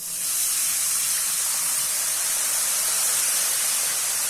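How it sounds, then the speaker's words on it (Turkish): Sugar syrup is poured onto hot flour-and-semolina halva in a pan, giving a loud, steady hiss of sizzling steam that lasts the whole time with no pauses. "Yavaş yavaş ve dikkatlice şerbetini verin."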